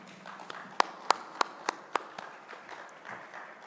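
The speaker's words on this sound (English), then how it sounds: "Can we have a good round of applause for the panelists" A small audience claps for panelists at a conference session, sparse distinct hand claps in a quick uneven run that fade into light scattered patter, fairly quiet and without talk.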